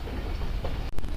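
A train rolls over rails through the Sindh countryside on the Mohen Jo Daro Express between Sehwan and Rohri, a continuous close rumble with a brief dip near the end.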